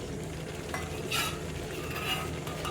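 Spoon stirring peanut curry in a pan, a steady scraping and mixing with faint sizzling underneath and an occasional light clink of metal, close and continuous with no voices.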